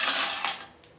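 Ice cubes clatter into a blender jug already holding falsa berries and a glass of water, a quick close rattle of hard pieces that fades within a second.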